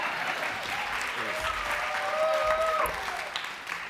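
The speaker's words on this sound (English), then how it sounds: "I was holding for applause," Applause from a gala audience, dense clapping that swells slightly and then eases, loud and continuous, with a whistle-like tone rising through the middle.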